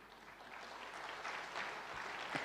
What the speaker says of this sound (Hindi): तालियां क्यों बजाई?